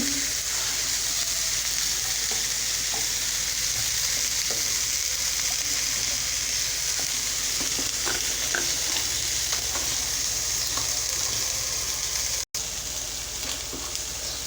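Food sizzles steadily in a pan after salt is added, with scattered scrapes and clicks of stirring running through the whole stretch and no talking; a brief cut in the sound comes near the end.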